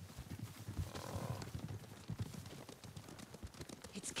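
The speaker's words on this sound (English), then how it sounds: "Horses, they're coming for us." Horses gallop in the Ghost of Tsushima video game, a quick run of hoofbeats at moderate loudness, mostly alone with only faint voice traces.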